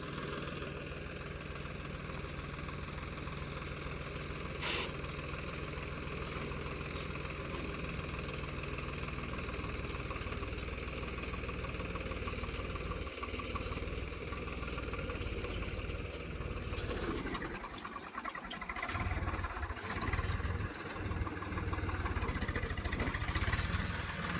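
A tractor pulls a harrow through a cotton field, its engine droning steadily and loudly up close for the whole stretch, with slight shifts in tone near the end.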